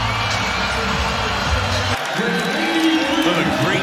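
Basketball arena crowd cheering and roaring for a player leaving the game, a loud, broad wash of voices that swells after a brief lull partway through.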